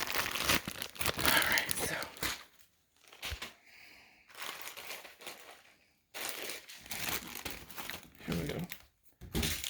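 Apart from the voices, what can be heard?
ripping open plastic packaging of a goody box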